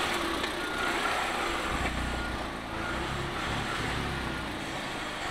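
Stock Mazda Miata engine idling with a quiet factory exhaust, a steady low rumble held evenly and close throughout, with no talk over it.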